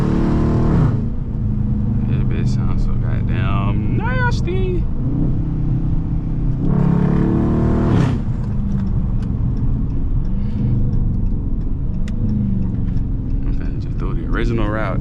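A Dodge Charger R/T's engine drones in a deep, heavy rumble while driving, with a swell of revving around the middle, close and loud inside the cabin as people talk over it.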